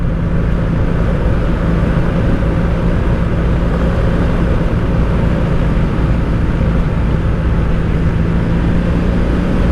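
A 1984 Honda V65 Sabre 1100 motorcycle ridden on the road, heard as a loud, steady engine drone mixed with wind rush throughout, with no talk.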